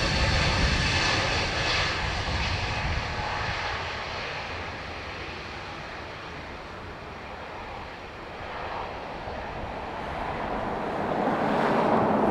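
A Swiss airliner departing Dublin Airport for Zurich, its engines roaring loudly at first, easing somewhat in the middle, then building again, with wind buffeting the microphone and no talk.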